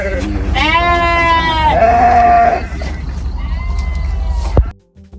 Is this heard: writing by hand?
no